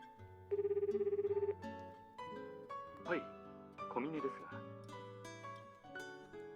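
Phone ringtone from the visual novel game Fruit of Grisaia, a steady repeating electronic trill for about a second, followed by soft musical tones, with no talk over it.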